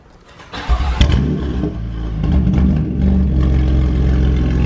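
BMW F82 M4 with an Armytrix valved exhaust fires up with a sharp bark, then settles into a loud, deep rumbling idle with slight revs, heard close up.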